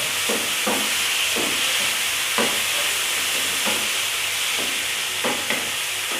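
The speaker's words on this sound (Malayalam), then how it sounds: "പ്രോൺസ് ആഡ് ചെയ്ത് ഒന്ന് ഇളക്കി കൊടുക്കുക." Fried prawns are stirred into a sizzling Kerala-style roast masala, producing a constant loud frying hiss with repeated rhythmic scrapes of the spoon in the pan, close up and without talking.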